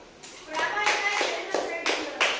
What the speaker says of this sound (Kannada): ಚಪ್ಪಾಳೆ ಹೊಡ್ರಿ ಎಲ್ಲರೂ